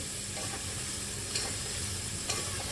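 Cumin powder, coriander powder and ginger paste frying in a pan, a steady close sizzle with a couple of brief scraping stirs against the metal, even in loudness throughout and free of talk.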